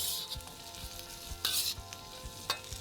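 Fried rice being stirred with hoisin sauce in a hot sizzling pan, a steady fry hiss broken by several sharp scrapes and clatters of the utensil against the pan, no voices.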